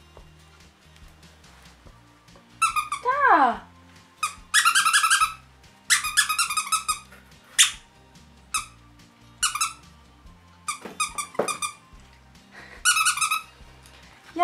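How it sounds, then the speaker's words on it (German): A squeaky stuffed dog toy squeaks in repeated short bursts, some quick clusters and a few longer pitched squeals, close and loud, with a brief spoken exclamation in between. "sie hat sich schon das Stofftier hier genommen und wundert sich die ganze Zeit, warum das quietscht"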